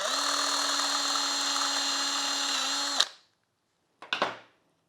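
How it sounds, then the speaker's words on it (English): A step drill bit bores out an undersized hole in a 3D printed plastic rain/air vent for a backdate Porsche 911, a steady high-pitched whine for three seconds that cuts off, then a short second burst. "I'll use a step drill and make it the exact size we need for this."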